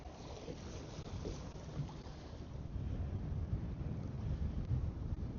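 Wind at sea on a fishing boat out over wrecks in a big sea, a constant rough roar and rumble buffeting the microphone that builds slightly stronger toward the end, with no talking.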